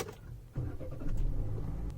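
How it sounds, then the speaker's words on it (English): A car engine cranks over and catches, with the vehicle in neutral and the handbrake applied before it is started to run a 12V DC tyre inflator. A short crank is followed by a steady, close idle rumble. "So let's start the car."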